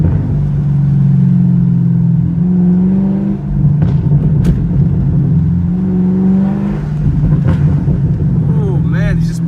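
Chevrolet Camaro exhaust in track mode, a loud steady engine drone close by with revs rising and falling and crackling pops breaking through, while someone talks over the engine.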